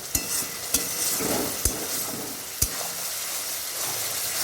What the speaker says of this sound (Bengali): ভালো করে মিশিয়ে নেব মশলাটা ভালো করে কষিয়ে নেব